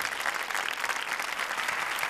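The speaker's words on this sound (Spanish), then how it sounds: "Em va molt bé aquest aplaudiment per trencar de tema" Audience at a live stage show claps continuously, a dense even wash of applause with no talking, moderately distant and steady for its whole length.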